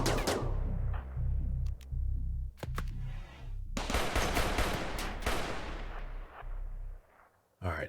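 Turret gunfire during a RimWorld colony raid: dense, loud bursts of rapid shots and crackling fire that keep going with brief pauses, then die away near the end.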